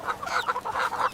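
Chickens cluck close by in a quick run of short, nasal calls, moderately loud, with no voices over them.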